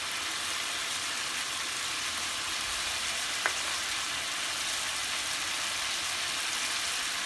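Chicken frying in a pan with garam masala and crushed roasted cumin going in, a steady broadband sizzle running throughout at an even level with one brief click near the middle.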